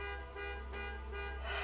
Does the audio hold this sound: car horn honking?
yes